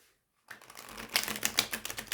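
A new Spirit Keeper's Tarot deck, slightly stiff, is riffle shuffled up close, with a rapid burst of crisp card flutters building after a brief silence and no voices.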